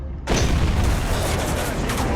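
A tank cannon fires at a King Tiger tank in the video game War Thunder, with one sudden loud boom after a brief quiet moment, followed by a dense, rumbling roar that holds to the end.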